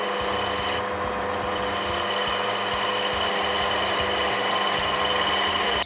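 Continuous loud abrasive hiss of 320 grit sandpaper held against the end of a spinning wooden pen blank on a lathe, with the motor's steady hum underneath and no pauses.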